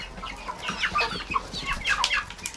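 Young cockerel clucking in a village yard among other poultry, a series of short, bright calls repeating irregularly at close range over steady yard background, no talk.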